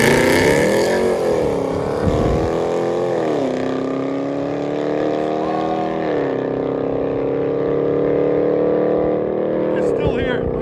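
Loud V8 exhaust from a RAM truck with a 5.7L HEMI, a steady deep rumble with rising and falling revs and shifts that carries through the whole stretch, with a voice heard briefly over it.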